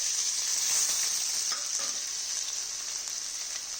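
Onions and green chillies frying in hot oil for a fish tamarind curry, a loud, continuous close sizzle with faint stirring scrapes and no voices.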